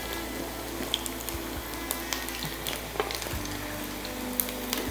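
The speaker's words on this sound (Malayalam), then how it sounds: "ക്രിസ്പിയായി പൊരിഞ്ഞ് വരുന്നു" Dal frying until crisp in hot oil, a faint steady sizzle with scattered small pops and crackles, close and alone.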